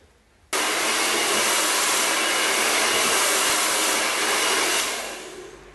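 A hair dryer roars in steadily after a brief quiet start, blowing hair upward at the roots for messy volume, loud and close with a constant rushing tone that eases slightly before the end.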